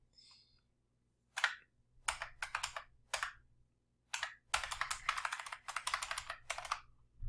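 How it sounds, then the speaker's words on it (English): Bursts of typing on a computer keyboard, close and fairly quiet, arriving in irregular clusters of rapid clicks separated by short pauses, with no voices. "my keyboard isn't working"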